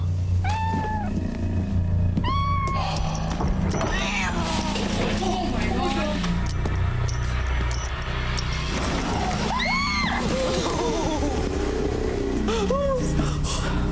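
A cat meows several times, rising, drawn-out cries spaced across a steady low rumble, with people talking quietly in between.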